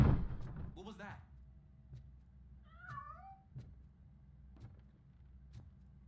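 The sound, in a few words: cat meowing in video game Robocop: Rogue City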